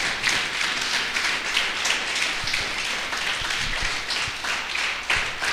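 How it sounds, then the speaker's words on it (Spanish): A church congregation claps and applauds during a Spanish-language sermon, a dense, continuous patter of many hands that lasts several seconds at moderate volume with no voice over it. "Si usted lo cree, denle un fuerte aplauso al Rey."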